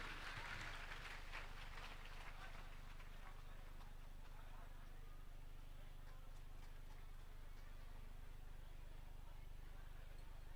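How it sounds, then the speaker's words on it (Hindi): An audience at a Shrimad Bhagwat Katha religious discourse, held at the Bhojpal Mahotsav, claps for an honoured guest. A burst of crowd clapping starts loud and thins out over a few seconds, leaving a steady hum of the hall. "एक बार जोरदार तालियां हमारे सम्मानीय प्रभात झा जी के लिए"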